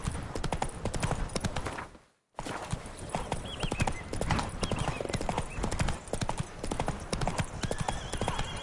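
Roach the horse trotting in The Witcher on PS5, in a DLC section: steady, close clip-clop hoofbeats that run almost continuously, cut by a brief pause before resuming at the same even pace.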